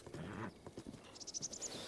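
A horse in the video game Zelda: Breath of the Wild clip-clops in a quick run of soft hoof beats, ending in a few bright, high chiming tones; the sound is faint overall.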